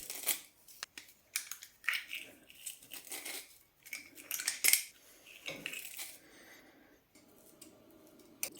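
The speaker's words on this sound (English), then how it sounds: "3 crushed garlic cloves" Garlic cloves being crushed for a dumpling sauce of brown sugar and rice vinegar, giving a run of irregular crunchy, clinking kitchen clatter, close and moderately loud, with no voices.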